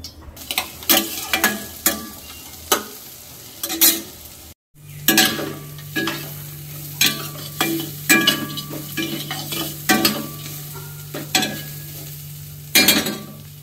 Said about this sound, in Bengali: একটু কালো জিরা দিয়ে দিলাম।